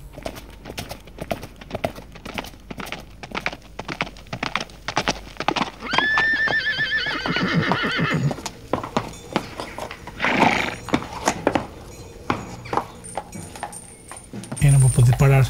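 Horse hooves clopping in a steady rhythm in the audio game A Blind Legend, with a loud whinny partway through and a rider's voice speaking over the galloping, then a sudden heavy thud near the end.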